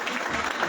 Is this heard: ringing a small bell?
no